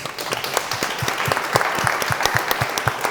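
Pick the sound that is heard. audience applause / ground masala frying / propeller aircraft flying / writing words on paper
audience applause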